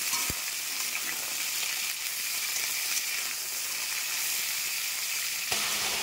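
Jackfruit seeds, potatoes and vegetable stalks fry in a pan with a steady, close hiss of sizzling oil, occasional light scrapes of stirring running throughout, with no talking.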